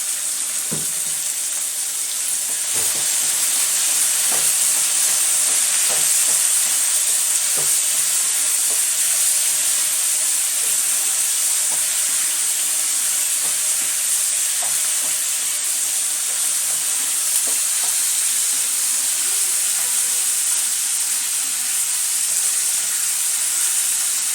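Tomatoes and onions sauté in a pan for a tomato chutney, giving a loud, steady hissing sizzle with a bright high-pitched edge and occasional stirring clicks, close up and with no voices.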